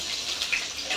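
Red amaranth greens being rinsed by hand in water, a brief splashy sloshing and trickling with soft bursts, close and alone.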